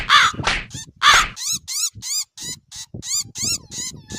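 Crow cawing in an animated Hindi children's story, a series of loud, close harsh caws in quick bursts, some stretched and wavering, with no talk over them.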